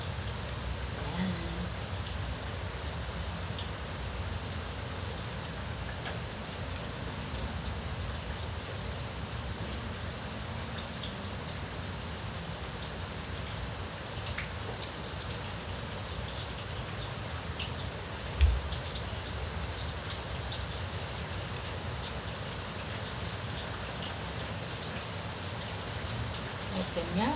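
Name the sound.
rain falling and dripping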